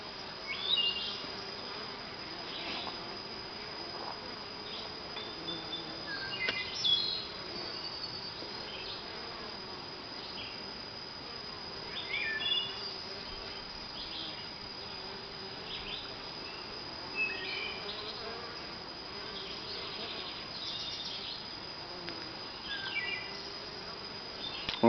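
Honey bees buzz steadily around their hive in a dense, continuous drone, many wings overlapping at close range with brief individual passes rising out of the hum; no one speaks.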